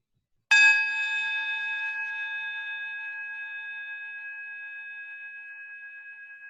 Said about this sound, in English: sound the closing bell